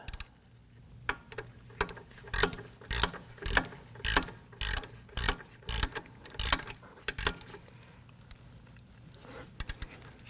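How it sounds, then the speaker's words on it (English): A hand ratchet tightens the parking brake bracket bolt on a Nissan Murano during a rear brake shoe job, giving a series of sharp, close clicking bursts in regular rhythm through the middle of the clip, then trailing off. "Then we'll go ahead and tighten down the bracket bolt."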